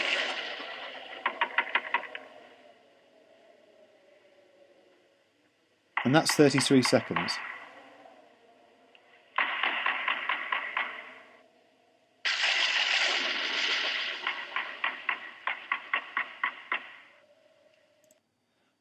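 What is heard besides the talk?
knocking on a door sound effect cue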